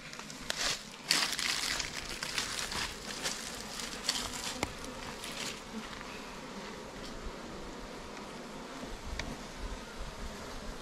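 Honeybees buzz steadily around hive frames as honey is harvested from the boxes, a close, continuous drone with brief louder passes and occasional light knocks, no talking.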